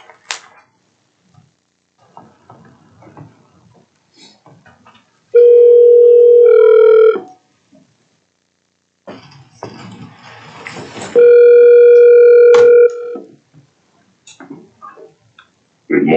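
Telephone line tones while dialing in to a board of education special meeting: two long, loud, steady tones, each about two seconds, separated by quiet clicks and faint line noise.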